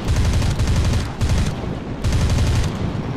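Rapid bursts of gunfire in the World War II flight combat game War Thunder, flown in a La-5F fighter: loud, dense automatic fire in several long bursts separated by short breaks.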